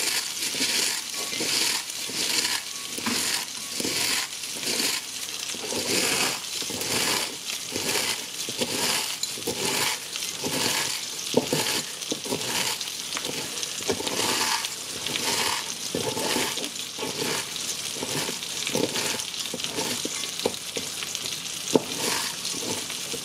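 A cornflake crust is tossed with coarsely chopped herbs, pepper and salt, giving a rhythmic crunching and rustling. The mixing strokes repeat steadily and close by, with no talking.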